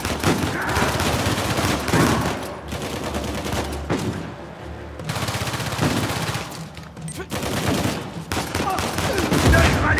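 Gunfire in the video game Uncharted 4: A Thief's End, with loud overlapping automatic bursts and rattling shots that come in waves with brief lulls, amid battle noise.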